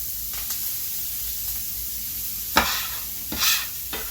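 Onion and carrots tipped into a pan of hot oxtail fat over medium heat, giving several sharp bursts of sizzle and scraping stir noise over a steady low frying hiss, close by with no talking.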